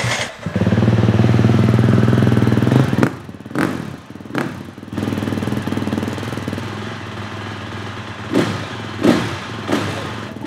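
A stock motorcycle engine fitted with a noise-reducing ProWell exhaust runs close by, giving a loud, steady, muffled rumble that cuts out and returns as a quieter idle broken by a few sharp revving bursts.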